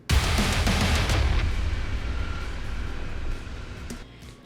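A heavy metal combat transition stinger from a video game hits loud and dense at once, with distorted guitars and pounding drums that gradually thin out and fade over a few seconds.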